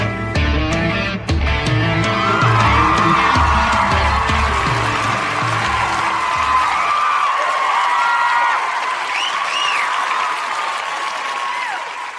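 Loud applause from a large crowd that starts abruptly and continues steadily, fading slightly toward the end, with brief music at the start.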